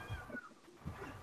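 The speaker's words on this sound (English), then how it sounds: "Somebody's cat wants their dinner. Can you hear that cat?" A cat meows a few times nearby, short plaintive calls spaced apart over a quiet background, while someone at a campsite in Milton Keynes talks faintly.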